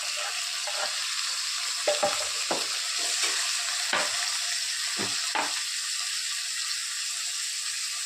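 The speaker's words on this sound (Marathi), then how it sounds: "कांदा छानसा लालसर भाजून घेणार आहे" Chopped onion frying in a pan and being stirred, a steady close sizzle throughout with several brief scraping strokes of the spoon, no talking.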